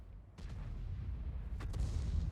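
Tank cannon fire in World of Tanks, two deep booming shots from a sandbox battle, the first sharp onset then a heavier second blast, each followed by a rumbling low roar.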